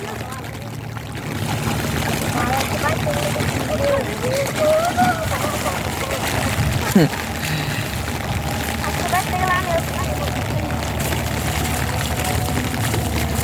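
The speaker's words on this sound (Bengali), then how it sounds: "বৃষ্টির ভিতরে খুব গোসল করতে আছে" Children splash and bathe in pooled rainwater during a downpour, a steady wet wash of water and splashing that continues throughout, with faint voices mixed in.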